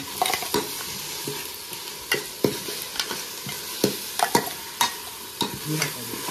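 Chicken biryani masala stirred and fried in a pot, a steady sizzle broken by repeated sharp scraping strokes of the spoon at an irregular rhythm, close and clear with no talking.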